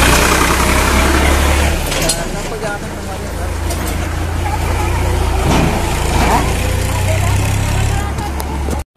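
Tractor engine running on the way to a farm field, a loud steady low rumble close by throughout, with rattling and road noise over it.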